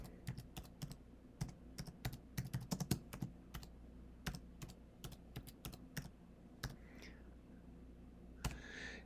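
Typing on a Mac keyboard: soft, irregular clusters of key clicks, close and quiet, with short pauses between bursts and a faint breathy sound near the end.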